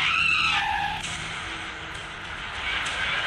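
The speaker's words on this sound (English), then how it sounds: "Volvo trucks feature auto emergency braking system that can bring trucks to a standstill within seconds." A Volvo truck with an automatic emergency braking system brakes hard to a standstill during a safety test. There is a loud, continuous tire screech over broad road noise that eases slightly midway and then holds.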